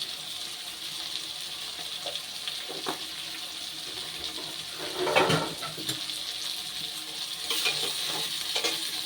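Ground spices fry in oil for a potato and fish-oil chochori, a quiet steady sizzle with repeated stirring scrapes and a few louder clatters near the middle.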